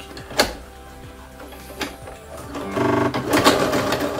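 A sewing machine runs a zigzag stitch on a ponytail hairpiece, whirring at close range in short bursts that end in a longer, louder run of rapid mechanical clatter.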